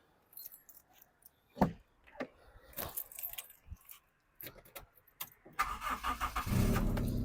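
Clicks and a jangle of keys, then a 2002 Honda City Type Z engine cranks and catches on the first try, settling into a steady, close idle.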